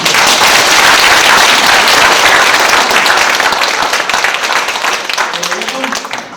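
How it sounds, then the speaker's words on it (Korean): A hall audience at a Gangdong district peace and unification lecture applauds North Korean defectors, a loud, dense wash of clapping that holds steady and then tapers, with faint voices emerging near the end. "우리 그분께 따뜻한 격려와 사랑의 박수를 부탁드리겠습니다"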